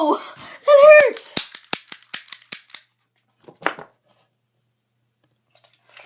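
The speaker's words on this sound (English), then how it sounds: "So that is the cap gun" A toy cap gun fires a quick run of sharp, snappy cracks in close succession, followed after a pause by a couple more isolated pops, with a brief vocal exclamation at the start.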